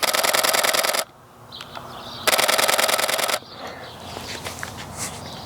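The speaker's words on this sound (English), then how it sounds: "especially on this Canon 7D, is that it allows me to capture 10 frames per second" A Canon 7D camera shutter firing in continuous high-speed bursts of about 10 frames per second: two loud, rapid clattering runs of roughly one second each, separated by a quieter pause, then faint ambient background.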